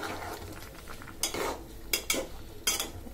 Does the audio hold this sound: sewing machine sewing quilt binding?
no